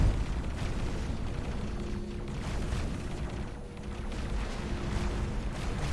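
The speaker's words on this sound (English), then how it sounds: "Explosion. Boom, goes the K." A ship blows up during a space combat video game, heard as a sustained, rumbling low roar that fills the whole stretch at a steady, loud level with no talk over it.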